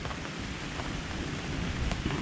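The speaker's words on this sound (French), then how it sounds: "l'orage gronde, les éclairs, je pense que vous entendez, ça tonne pas mal" Steady, dense rain pours down close by, with a low rumble of thunder underneath.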